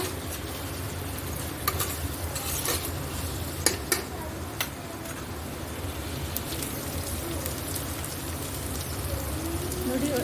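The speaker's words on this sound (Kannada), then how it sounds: "ಚೆನ್ನಾಗಿ ಎಣ್ಣೆಯಲ್ಲಿ ಫ್ರೈ ಆಗಬೇಕು ಆಲೂಗಡ್ಡೆ ಕೂಡ" Potatoes frying in hot oil, a steady crackling sizzle throughout with occasional sharper pops and a few stirring clacks.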